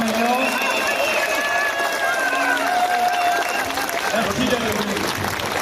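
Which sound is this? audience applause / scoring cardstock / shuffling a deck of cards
audience applause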